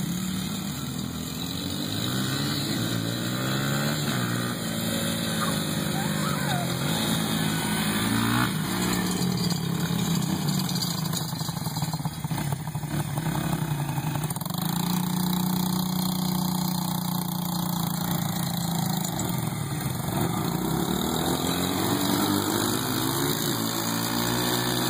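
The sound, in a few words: motorcycle engine revving, rider shifting gears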